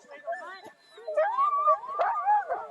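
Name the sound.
excited sled dogs howling and barking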